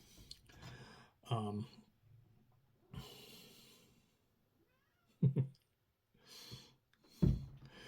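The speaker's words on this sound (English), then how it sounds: "my wife was letting the cat out of the room" Indoors, a cat meows and snorts a few times in short separate bursts while being let out of a room, close and fairly quiet, with soft breathy sounds between calls.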